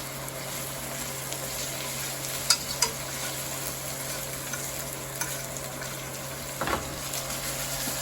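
Blackened shrimp crackle and hiss in a frying pan, a steady close sizzle with a few sharper pops and a brief stir of the pan, no voices.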